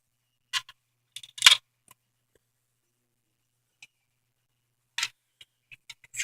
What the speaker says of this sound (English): I'm gonna put all the mounting hardware in here back together, back in